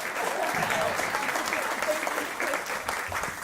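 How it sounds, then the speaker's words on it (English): Sustained applause from a ceremony audience celebrating the commencement of DreamWeek in San Antonio, honoring a movie star; steady dense clapping throughout, fairly close and full, with some voices mixed in. "a massive round of applause for Jada Pinkett, the movie star"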